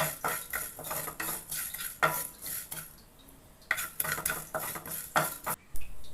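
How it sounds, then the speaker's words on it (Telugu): Coriander seeds dry-roasting in a pan with a fistful of curry leaves for Karnataka-style pulihora. A ladle rattles and scrapes almost constantly, with brief pauses and louder clanks. "ఈ ధనియాలు వేయించే టైంలోనే ఒక పిడికడంతా కరివేపాకు వేయండి. అది కూడా దీంతో పాటే వేయించుకోండి."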